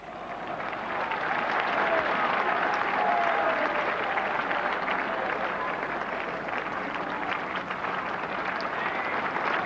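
Large Southampton cricket crowd giving sustained, even applause for a veteran batsman's innings, dense clapping from a distance with no break.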